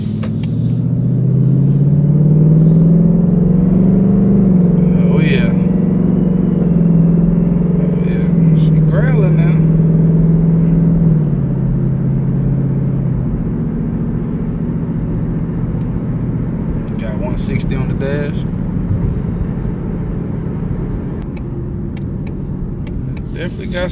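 A new Ford Mustang 5.0 is driven on the road, its engine a loud, continuous cabin drone with a rising pitch as it accelerates, then a steady cruise, with occasional speech over it.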